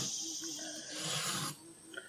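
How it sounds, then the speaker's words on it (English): A knife blade is worked across the coarse side of a sharpening stone, producing a close, gritty scraping stroke that holds for about a second and a half and then stops. "I'm just working the coarse side of this stone."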